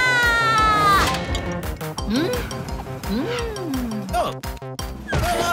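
Cartoon cat meowing in a dubbed Gummy Bear Show episode, several rising, wailing meows mixed with music and comic thumps and whacks.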